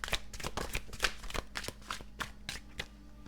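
An oracle card deck is shuffled by hand, with a steady run of crisp riffling bursts, close and fairly quiet, and no talking.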